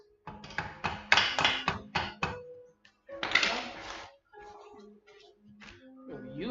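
Bursts of light, quick taps come in uneven clusters with brief pauses between, close and moderately quiet, while working on the clutch of a 2003 Honda Shadow VT750DC motorcycle.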